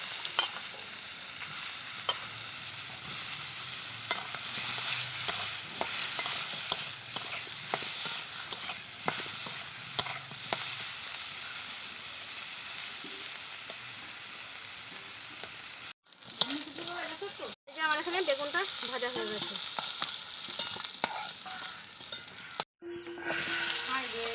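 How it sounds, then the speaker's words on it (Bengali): Brinjal sizzling and frying in hot oil in a kitchen, a steady crackling hiss with stirring scrapes throughout, broken by a couple of brief pauses near the end. "ওই তেলে আমি বেগুনটা ভেজে নিচ্ছি"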